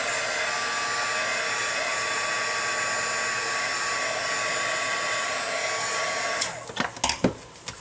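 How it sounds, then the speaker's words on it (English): A heat gun blows steadily and loudly to dry blue paint on a handmade silhouette craft, then cuts off near the end, leaving a few clicks and handling knocks. "pop it with the heat gun for a second."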